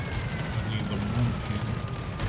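Heavy shells from an FDR in the World of Warships naval battle game slam into a ship, making a dense cluster of deep booming impacts and rumble that stays loud across the whole moment.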